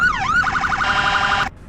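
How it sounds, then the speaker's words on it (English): A video-game police car siren wails loudly, sweeping down and back up once before switching to a fast, warbling yelp that repeats rapidly, then cuts off abruptly. "your different sirens and horns"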